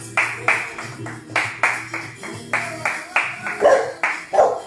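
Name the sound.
dog barking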